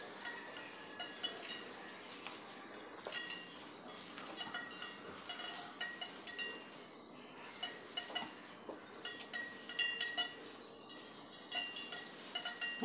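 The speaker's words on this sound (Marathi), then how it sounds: "आता हे सर्व मिक्स करून घेऊया" Batter ingredients get mixed in a bowl, with faint continuous clinks and scraping of a utensil against the bowl, a light irregular rhythm of small taps throughout.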